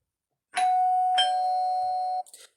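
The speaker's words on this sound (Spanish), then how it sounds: "Y otros sonidos, como el timbre" A two-tone electronic doorbell chime rings once, a bright ding followed by a sustained dong, clear and close with nothing else around it.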